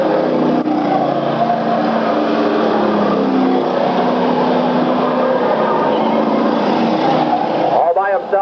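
Race cars at a 1994 qualifying heat, their engines droning together in a steady roar heard from a distance, with a track announcer talking over them throughout.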